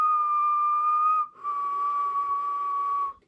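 A person whistles one continuous tone while breathing out and then in, the pitch dipping briefly at the changeover, close and steady with no talk.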